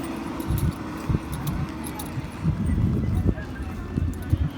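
Horse hooves clip-clop during a horse ride in Gulmarg, Kashmir, in a loose run of close, distinct strikes under a voice speaking.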